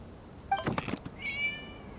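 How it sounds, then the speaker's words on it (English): A cat in a video game (Genshin Impact) meows once or twice, a short, clear cry followed by a higher, drawn-out tonal mew. Fairly quiet, with no voices. "It was just a cat."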